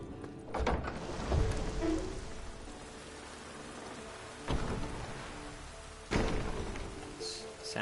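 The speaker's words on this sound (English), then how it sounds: "Sounds like it's raining, but I don't see any rain." Steady video game rain patters throughout, with a few heavier thuds or gusts swelling in at intervals; no voices, just the continuous wash of falling water.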